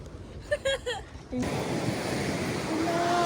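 Ocean waves surge and wash in a continuous broadband roar after a short stretch of quieter sound with brief voices, the rushing water building and staying loud with some wind buffeting.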